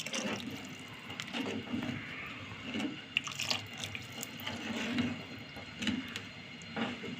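Water-like trickle and gentle pouring as a thickening mixture is added slowly, a little at a time, into hot and sour chicken soup on the stove, steady and close with faint bubbling underneath.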